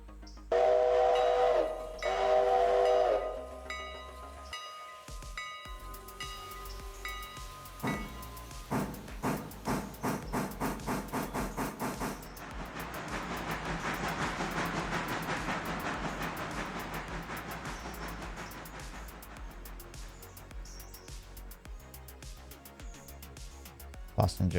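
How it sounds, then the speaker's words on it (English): A passenger train in a railway management game departing a depot: a whistle blast, then a rhythmic run of clanking pulses giving way to a swelling rumble as it pulls away, with a voice talking over it. "Passenger train departed with your depot."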